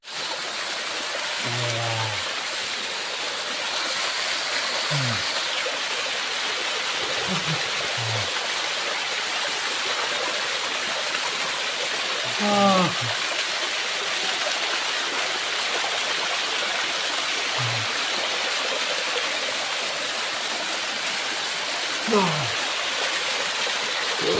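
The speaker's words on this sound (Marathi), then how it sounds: "अवकाळी पावसा पाऊस पडल्यामुळे धबधबा पुन्हा चालू झाला" A small waterfall flowing again after unseasonal rain, a steady broad rush of water throughout, with a voice speaking now and then over it.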